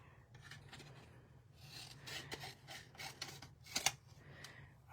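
Paper cardstock being cut for a sweet jar craft: quiet rasping, rubbing strokes close by, a handful of soft cuts building over a few seconds with a sharper snip near the end, no voices.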